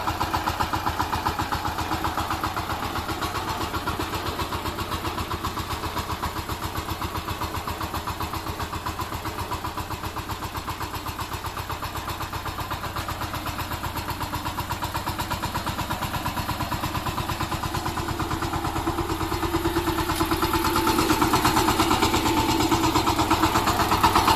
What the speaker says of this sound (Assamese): চালকবিহীন ট্ৰেক্টৰ চালকবিহীন পাৱাৰ টিলাৰ